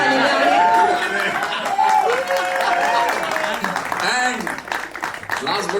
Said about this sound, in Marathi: श्रीकांत एंट्रीला टाळ्या